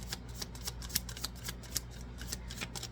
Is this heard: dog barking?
no